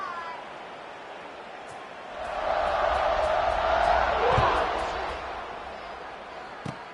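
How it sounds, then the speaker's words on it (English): A football stadium crowd buzzes after a score, a broad roar swelling in the middle and then easing off, with a few sharp knocks. "this crowd is buzzing after that last score"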